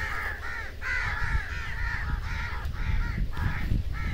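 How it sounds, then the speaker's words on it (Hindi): Crows cawing in a farm field, a series of harsh repeated caws in quick bursts with short gaps, fairly close and loud over a low outdoor rumble. "ये कौवे टें टें टें टें पता नहीं किस बिना पे कर रहे हैं।"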